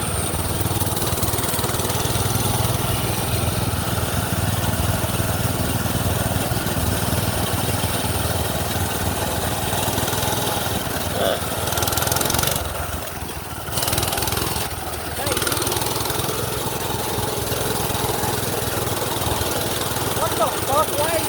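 A minibike engine runs steadily at night, its droning, mower-like hum continuous and close for the whole stretch, dipping briefly near the end, with people talking over it.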